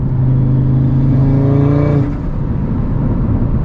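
Audi RS3 engine revving hard from the driver's seat: a loud, rising five-cylinder growl that climbs in pitch for about two seconds, then drops into a lower, rumbling cruise under steady road noise.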